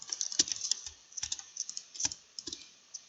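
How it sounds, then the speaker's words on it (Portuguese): Quick clusters of light keystrokes on a computer keyboard, close and crisp, coming in short bursts with brief gaps between them. "Vou digitar mais um texto aqui"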